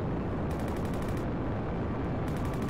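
A thunder event in the Roblox game Jailbreak rolls as a loud, continuous broadband rumble with crackling bursts, dense and unbroken for the whole stretch with no voices over it.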